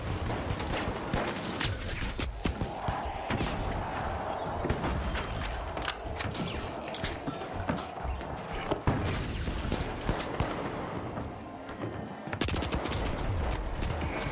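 Gunfire in the first-person shooter The Finals, a revolver among the weapons, with sustained bursts and sharp repeated shots throughout, loud and close, with mechanical clatter and brief gaps between volleys.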